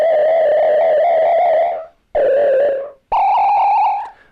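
A Korg Volca Modular synth tone with noise modulating its pitch, making it rough and wavering; it sounds as three loud, buzzy sustained notes with short gaps between them and no talking.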